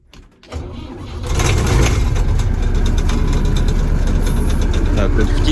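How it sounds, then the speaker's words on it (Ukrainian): A Volvo 1130 combine harvester engine starts after a brief quiet moment: a short cranking burst, then the engine catches and settles into a loud, steady idle running close by. "каже, що то за відео без запуска комбайна. Запустимо його, значить, зараз."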